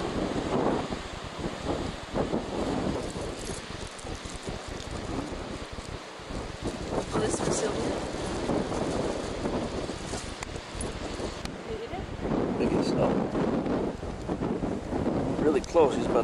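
Steady outdoor wind buffets the microphone throughout, a continuous rough rumble with faint surf-like wash underneath.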